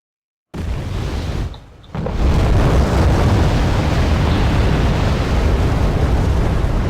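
Mortar shells burst in a war video game, with a sudden heavy boom after a silent start, a brief dip, then a second blast that rolls into a sustained loud roar.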